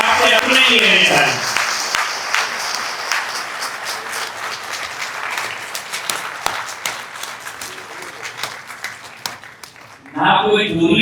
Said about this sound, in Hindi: तो एक बार जोरदार तालियां आप सभी के लिए